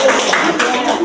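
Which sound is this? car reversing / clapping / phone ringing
clapping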